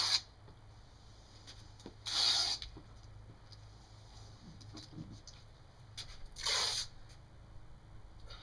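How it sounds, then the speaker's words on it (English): Masking tape is run along edges with a 3M hand masker, heard as two short rasping tears with faint rubbing and handling noises between them. "Now I'm going to take my tape and begin running"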